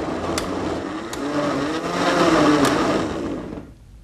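A blender purees cooked, cooled broccoli, a loud, continuous whirring motor drone that rises slightly in pitch midway and winds down at the end.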